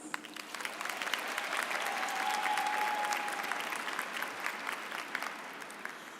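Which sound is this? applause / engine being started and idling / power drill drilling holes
applause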